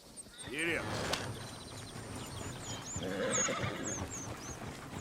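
A horse whinnies loudly near the start, a long descending neigh, with hooves clopping and voices shouting in a noisy, busy scene.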